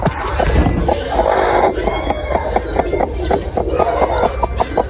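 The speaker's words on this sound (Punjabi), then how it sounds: "ਉਹ ਸੱਚੀ ਆਵਾਜ਼ ਹੈ, ਕੱਢਿਆ ਚੂਚੇ ਦੀ ਆਵਾਜ਼।" Chickens cluck steadily and close by while a chick hatches from its egg, with thin high peeps rising over the clucking toward the end.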